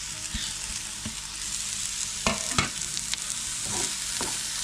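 Forest mushrooms and a few kokum fruits fry in a pan with a steady close sizzle, broken by occasional stirring scrapes and taps, with no talking.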